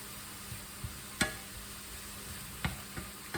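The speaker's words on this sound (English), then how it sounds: "to stir those all around and let the flavours mix in before I put the pork back in" Mushrooms in a creamy sauce sizzle quietly in a pan over moderate heat, a low steady bubbling hiss broken by a few sharp spoon taps and scrapes as they are stirred.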